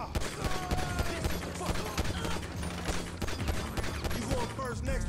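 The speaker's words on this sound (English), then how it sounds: "Got this SMG." SMG fire in Grand Theft Auto 5 crackles in dense, rapid bursts through a busy gunfight, loud and close, with a voice talking now and then beneath the shots.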